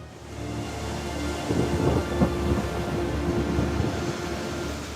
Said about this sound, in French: La pluie est sans fin.